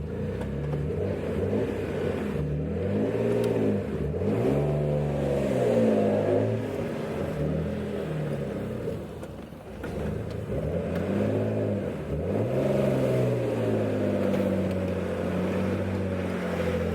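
A Mitsubishi GTO engine, suspected of a boost leak, revs during a hill start in a close, steady drone, its pitch rising and falling in repeated sweeps as the clutch is worked.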